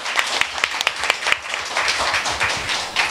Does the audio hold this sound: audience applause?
yes